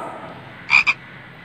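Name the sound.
frog croaking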